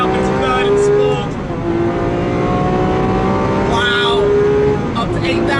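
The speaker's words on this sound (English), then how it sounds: "Holding those revs high as we come around towards the start straight." A Lamborghini Aventador SVJ V12 revs hard on a race track, loud and close from inside the car, its pitch climbing and dropping as it upshifts into third, with a second climb near the end.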